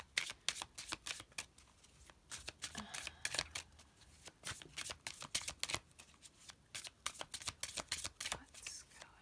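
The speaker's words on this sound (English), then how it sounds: "you can feel free to skip through the shuffling if you'd like." A deck of tarot cards is riffled and bridged over and over, close up, giving sharp papery snaps in quick uneven clusters while a soft voice speaks quietly beneath.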